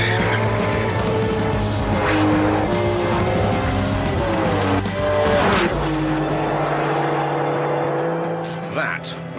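A sports car performs a launch control start, its engine revving hard on the brake, then tyres squealing loudly as it pulls away, the engine note climbing and fading near the end.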